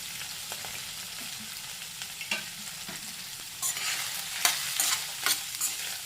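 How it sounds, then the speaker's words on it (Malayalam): Sliced onions fry in hot oil with green chili and curry leaves, giving a soft continuous sizzle broken by scraping stirring strokes that grow louder and more frequent toward the end. "അടുത്തായിട്ട് നമ്മുടെ സവാള കട്ട് ചെയ്ത് വെച്ചിരിക്കുന്നത് ഇട്ടു."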